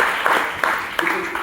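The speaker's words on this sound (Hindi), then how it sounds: "इनके लिए पूरा सदन ताली बजाए।" An assembled audience at an Independence Day school function claps for students, a dense, fairly loud patter of applause with speech mixed in.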